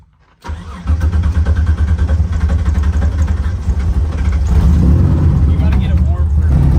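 A Mitsubishi 3000GT on a fresh tune cranks briefly and fires up, then settles into a steady, loud idle that swells slightly in the last seconds, heard close with no talk over it.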